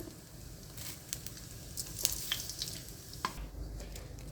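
Whole cumin seeds and bay leaves crackle and sizzle in hot oil in a home kitchen, a steady close frying hiss with scattered sharp pops and no talking.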